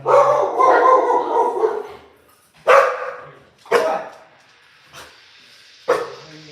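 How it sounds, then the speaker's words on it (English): Several dogs bark nearby, first in a sustained run of overlapping barks, then in four separate loud single barks spaced about a second apart. "That's some dogs are interested there."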